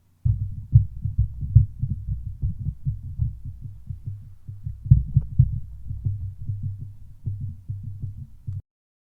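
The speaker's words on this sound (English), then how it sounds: "now I just want to tap the body of the microphone" Rapid, dull knocks of fingers tapping the body of a Samson Q9U USB/XLR microphone, a steady stream of low thumps at close range, alone with no talking, ending abruptly.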